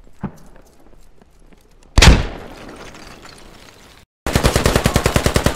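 A loud blast booms in a game soundscape and rumbles away, followed by a rapid burst of machine-gun fire.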